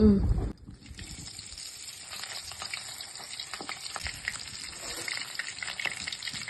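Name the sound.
chicken leg pieces frying in hot oil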